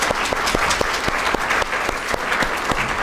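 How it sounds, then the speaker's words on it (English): Conference audience applauding emerging scholars, steady clapping from many hands in a room, dense and continuous without a break. "We'll give them a round of applause."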